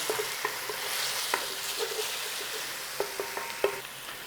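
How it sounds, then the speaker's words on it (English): Garlic and ginger sizzle in a hot pan while a utensil scrapes and taps the metal in irregular stirring clicks. "Cook out that rawness of that garlic and ginger in there."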